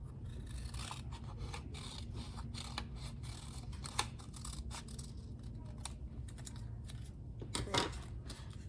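Scissors snipping paper pieces for a children's fox puppet craft, a close run of quick, crisp cuts with a couple of louder snaps, no talking.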